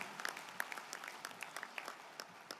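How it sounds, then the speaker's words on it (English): Sparse, faint round of applause from a convention audience at a general session, scattered individual claps heard at a distance with no talking over it. "I give them a great round of applause for the work they did on that"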